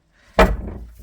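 A house door swings open onto a porch with a single solid thud near the mic, then a short trailing rattle and faint room noise.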